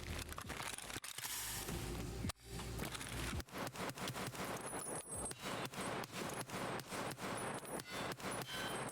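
A gun firing on full auto in the Escape from Tarkov video game, long rapid bursts of sharp, evenly spaced shots, loud and close, with short pauses between strings of fire.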